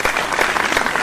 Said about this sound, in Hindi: सब ताली बजाओ तब हाथ नीचे आएगा।